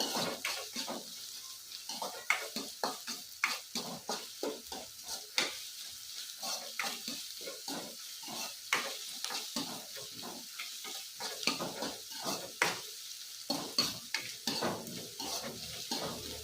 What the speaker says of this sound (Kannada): ಸ್ವಲ್ಪ ಫ್ರೈ ಮಾಡಿಕೊಡ್ರಿ, ಚೆನ್ನಾಗಿ ತುಂಬ ಟೇಸ್ಟ್ ಆಗಿರುತ್ತೆ ಅದಕ್ಕೆ.